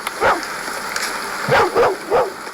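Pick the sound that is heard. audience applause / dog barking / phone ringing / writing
dog barking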